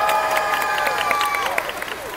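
Audience applause and cheering at a live bird show at Disney's Animal Kingdom, a steady wash of clapping with a bird's high whistling squawks rising over it throughout.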